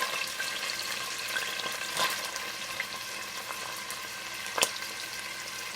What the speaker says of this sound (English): Put the onions in the oil